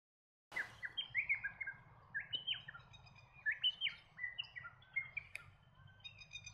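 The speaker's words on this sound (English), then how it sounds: "there is always a chance of seeing the mangrove robin." A mangrove robin calls repeatedly in mangroves near Cairns, giving a series of clear, whistled chirps in quick phrases, fairly close and distinct over a low, steady background hum.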